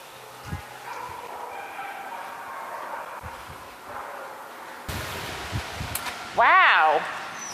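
Dogs barking in the yards of a doggy daycare, a few scattered barks at a distance followed by a louder, higher yelping bark near the end.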